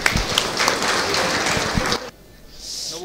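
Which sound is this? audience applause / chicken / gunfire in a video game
audience applause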